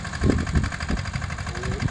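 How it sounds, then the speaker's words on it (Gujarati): A diesel rickshaw engine drives a homemade three-wheel tiller, chugging steadily at close range with a rapid, even knocking rhythm and no talk. "ડીઝલ રિક્ષાના એન્જિન માટે સનેડો બનાવેલો"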